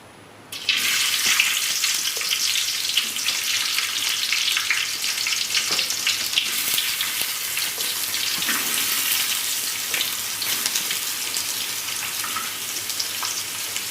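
Steady, loud sizzling of onions frying in hot coconut oil, a dense crackling hiss that starts abruptly and continues without pause.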